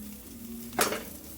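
Tomatoes tipped into a hot pan while a kurma cooks: a quiet low hum, then one sudden sizzling splash that flares loudly and fades over about half a second.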